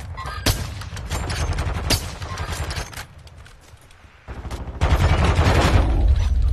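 Gunfire in the Warzone video game: sustained bursts of rapid shots with sharp cracks, easing to a quieter lull before heavy firing returns louder near the end.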